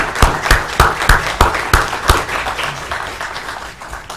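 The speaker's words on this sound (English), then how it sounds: "round of applause" Lecture audience applauds the speakers as the afternoon session ends: sharp, close hand claps in a quick rhythm ring out first, then thin into softer, scattered clapping that tapers away.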